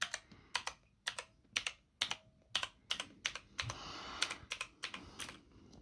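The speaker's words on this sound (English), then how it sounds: "I'm going to give you the full account of what each key sounds like." Keys on a Razer BlackWidow Elite mechanical gaming keyboard are pressed one at a time, giving sharp, close clicks in an uneven rhythm, with a quick flurry of taps partway through.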